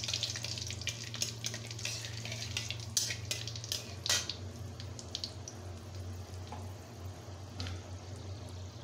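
Whole cumin seeds and two dried red chillies frying in hot oil, a steady close sizzle with scattered crackles and pops over a constant low hum.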